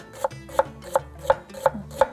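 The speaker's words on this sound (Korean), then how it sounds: "양파는 얇게 채쳐주세요" A knife slices onion thinly for mung bean pancakes, six crisp, evenly spaced cuts against a cutting board, close and clear with no talk.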